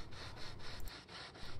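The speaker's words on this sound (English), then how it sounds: "he's now just doing the finish sanding along the flange edges there" Hand finish-sanding along the flange edges of a freshly cut aircraft canard skin on a prototype plane build: quick, even back-and-forth rasping strokes, about four per second, close by with no talk.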